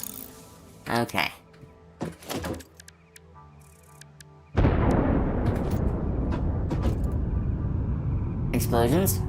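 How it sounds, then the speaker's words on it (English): After a few seconds of talking over quiet background, a sudden loud roaring rumble of a rocket entering orbit in the game Satisfactory takes over and continues steadily, with a voice briefly returning. "it's the rocket entering orbit."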